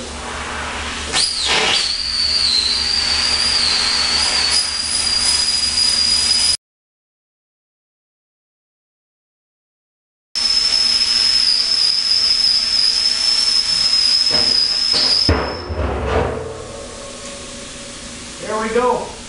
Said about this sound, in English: There's my plasma cutter.